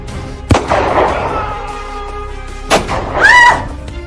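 Gunshot sound effects in a narrated Bengali horror story: two sharp, loud cracks about two seconds apart, each followed by a brief ringing tail, with a short whistling tone trailing after the second shot.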